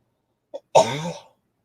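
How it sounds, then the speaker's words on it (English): A person with a snotty, tickly cold gives a brief throat catch followed by one harsh, close cough in an otherwise quiet space. "You should have done a drinking game every time I cough this week."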